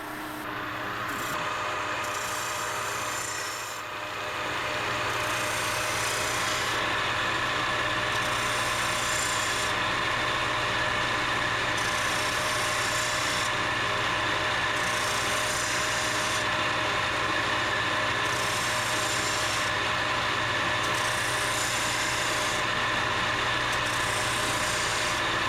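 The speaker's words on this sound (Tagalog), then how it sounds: "Hinahasa pa po para matalas kasi madami tayong kahoy na bibiyakin." Blade being sharpened before splitting a lot of wood, a continuous rhythmic rasping and grinding, steady and fairly loud at close range with regular pulsing strokes and no speech.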